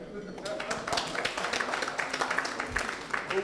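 Audience applause for Boyega Shongonuga at a bank family gathering: steady dense clapping from a room of people, sustained throughout with scattered crisp claps, a voice faintly present beneath.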